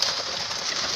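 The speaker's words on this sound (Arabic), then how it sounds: "ادي الحمام اهو" Domestic pigeons coo softly close by, a low murmuring call over a steady airy background hiss, with no talk.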